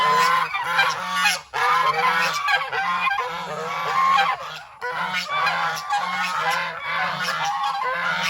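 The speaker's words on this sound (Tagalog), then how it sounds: "Ayan ang gansa oh." A flock of geese honks loudly and continuously, many overlapping nasal calls in a busy, raucous chorus close by.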